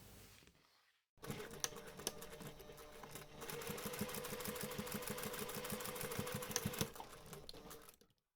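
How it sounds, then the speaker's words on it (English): A sewing machine runs close by as trims are basted along raw fabric edges, a rapid steady mechanical whirr with a fast needle clatter for several seconds after a brief pause, then stopping. "you can take this to the machine and baste your trims along those raw edges"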